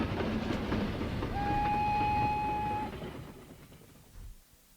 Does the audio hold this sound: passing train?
yes